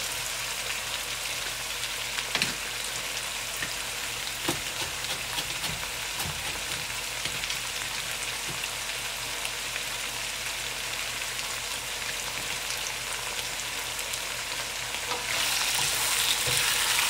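Carrots and beans stir-fried in a pan for Tibetan beef chowmein, a steady close sizzle with faint scraping stirs throughout, growing a little louder near the end, with no talking.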